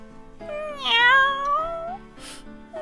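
A single drawn-out cat meow rises and then falls in pitch, heard clearly over a steady humming tonal background.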